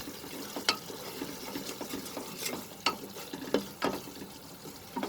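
Salt is stirred into black chickpeas cooking in a pot, with a soft wet sizzle under repeated scraping and stirring strokes at an uneven rhythm, fairly quiet and close.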